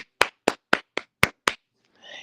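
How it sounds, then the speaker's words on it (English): Six crisp, evenly spaced hand claps from a single person, close and dry with silence between each, followed by a brief soft voice at the end. "Let me give you a clap"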